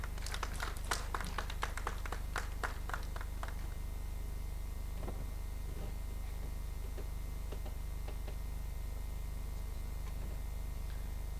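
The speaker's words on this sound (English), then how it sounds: "A big round of applause, please." Scattered, quiet clapping from a conference audience at a national company secretaries' conference inaugural session, a few sharp claps in the first seconds that quickly thin out, leaving faint room hum.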